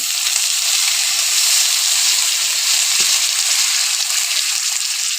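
Chicken gravy sizzles loudly in a pan after water is added, a dense, steady hiss of frying that fills the whole clip close up, with a few faint stirring knocks underneath.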